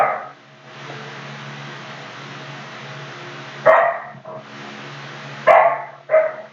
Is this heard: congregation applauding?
no